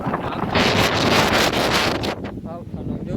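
Strong gusting wind blowing dust roars and buffets the microphone, loud and continuous, with a slight easing toward the end.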